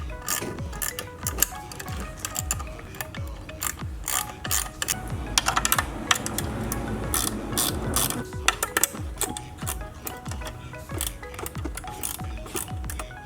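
A 10mm ratcheting wrench working on Recaro seat rail bolts in a Honda EK Type R, a fast, continuous run of close, loud ratchet clicks in repeated bursts.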